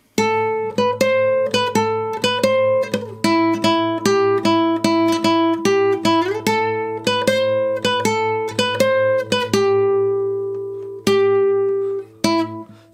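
Guitar playing a melody from The Last of Us Part 2, clean plucked single notes in a steady, unhurried line over a sustained low drone, with ringing notes near the end.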